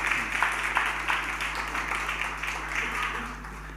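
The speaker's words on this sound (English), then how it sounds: "Yes, we need that applause." A ceremony audience applauds at the Free State Sports Awards 2023 with a moderate, fairly distant patter of clapping over a low electrical hum, easing off slightly toward the end.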